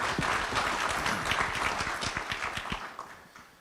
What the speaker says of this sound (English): the leadership of this community deserves an enormous round of applause